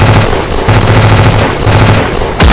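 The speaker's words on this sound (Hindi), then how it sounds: "इसी दौरान दुश्मन ने फायर खोल दिया।" Enemy gunfire on a battlefield cracks out as loud, rapid automatic bursts, dense and harsh, filling the whole moment with no voices over it.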